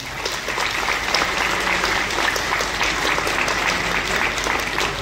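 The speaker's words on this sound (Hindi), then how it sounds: "समवेत कंठरे आप मानकर एक जोरदार करताली मिलिबो" An audience at an Odisha meditation yoga event breaks into steady, loud applause, a dense, even wash of clapping that lasts throughout without letting up.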